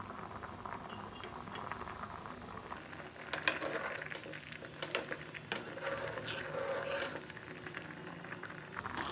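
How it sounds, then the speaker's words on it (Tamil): A pot of curry-leaf kuzhambu with potatoes and drumsticks bubbles at a steady rolling boil over high flame, soft popping and gurgling throughout with a faint sizzle, close by and unbroken. "பச்சை வாசனை போகிறதுக்காக ஹை ஃப்ளேம்லே 5-7 நிமிஷம் கொதிக்க விட்டு எடுத்துக்கோங்க."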